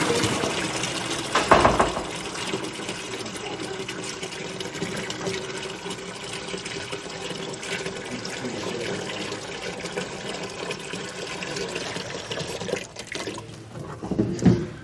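Water runs steadily through ice cream making equipment as a rinse between flavors, a continuous rushing flow with a sharper splash near the start and clatter at the end.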